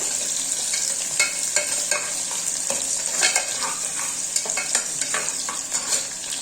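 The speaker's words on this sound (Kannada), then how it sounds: "ಈರುಳ್ಳಿ ಸ್ವಲ್ಪ ಚೆನ್ನಾಗಿ ಫ್ರೈ ಆಗಬೇಕು" Onions sizzle steadily in hot oil while a spoon scrapes and stirs the pan in irregular strokes, close and fairly loud, with no talking.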